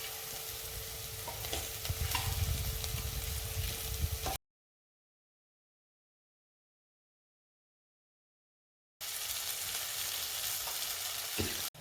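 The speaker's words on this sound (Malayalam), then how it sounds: "ഇതിലേക്ക് ഫ്രൈ ചെയ്ത് വെച്ച മീൻ ഇട്ട് നന്നായി ഇളക്കാം" Fried stingray pieces being stirred into a sizzling masala roast in a pan: close, steady frying crackle with stirring scrapes, broken by a stretch of complete silence before the sizzle resumes.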